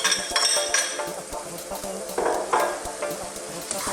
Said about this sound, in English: Let's just drop our tomatoes in.